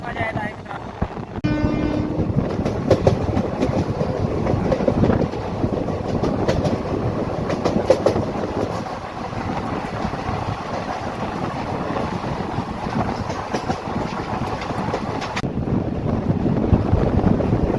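The Koyna Express from Kolhapur to Jejuri runs along the rails with continuous rumbling clickety-clack and wind buffeting, loud and close throughout, with faint voices at moments.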